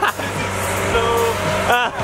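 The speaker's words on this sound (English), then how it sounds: "You gotta take the Aventador S through the McDonald's." A Lamborghini Aventador S idles and creeps through a McDonald's drive-through, its steady low engine rumble present throughout with a brief rise near the end, while people talk over it.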